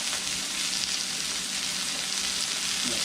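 A pan of chicken curry sizzles and crackles continuously at a strong, even level while being deglazed, with no voices over it.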